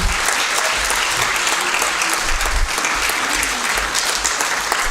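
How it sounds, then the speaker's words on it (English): An audience at an inauguration ceremony applauds, a sustained, dense wash of clapping from many hands filling the room steadily from start to end with no speech. "Another round of applause for Ms. Jaewon Lee."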